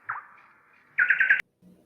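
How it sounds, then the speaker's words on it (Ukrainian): A nightingale gives a short song: a thin sustained whistle, then a quick burst of rapid trilled notes ending in a sharp click, loud and close with quiet between. "Це соловей"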